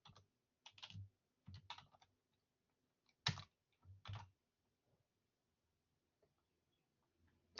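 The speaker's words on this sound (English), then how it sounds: "Why am I typing this? Seriously," Keys on a computer keyboard are struck in short, uneven bursts of clicks with pauses between them, close and fairly quiet, with no talking.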